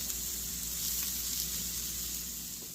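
Frozen Birch Benders waffles heat in a cast iron skillet over medium heat, giving off a steady, soft hiss of sizzling grease that stays even throughout.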